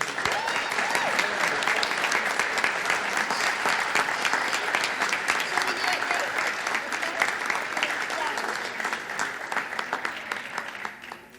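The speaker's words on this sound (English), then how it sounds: "give them a round of applause" An audience at a Martin Luther King Jr. Day celebration applauds the celebration choir after its performance, with sustained loud clapping that fades toward the end and some voices mixed in.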